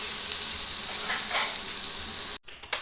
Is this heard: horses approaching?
no